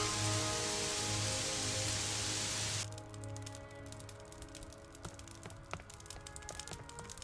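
Loud rain hisses for the first few seconds in the video game Gothic 3, then cuts off abruptly, leaving quieter ambient noise and a few faint clicks.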